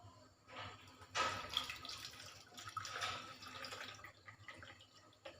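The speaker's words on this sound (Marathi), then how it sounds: "आता ह्यामध्ये आपण पाणी घालायचं आहे" Water poured over sesame through a strainer splashes and trickles into a bowl in a few soft bursts, quiet and close, with faint dripping between pours.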